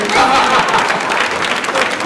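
Audience at a Peekskill NAACP Freedom Fund Gala bursts into loud, close applause, a dense patter of many hands clapping continuously for a couple of seconds.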